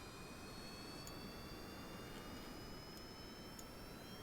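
Steady jet engine roar at maximum thrust from an aircraft in the Kerbal Space Program video game, a faint continuous broadband rumble with thin high whine tones, no talking.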